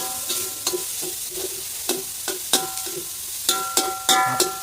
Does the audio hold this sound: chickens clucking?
no